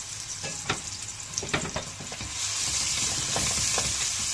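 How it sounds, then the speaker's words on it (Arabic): Onions frying in a pan for stuffed vegetable filling: a steady sizzle with scattered stirring scrapes and clicks, close and moderately loud, the sizzle swelling slightly in the second half. "بعد كده هننزل بكمية صغيرة من البصل اللي معانا"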